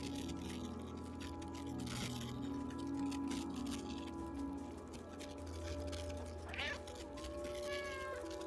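Cats meowing in the video game Stray, short mewing calls that stand out over a steady, dense game ambience, moderately faint and with no talk.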